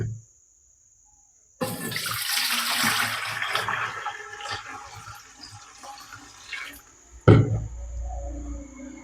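After a short silence, water gushes and splashes into a tiffin container, tapering off before a sudden clunk and a brief burst of splashing.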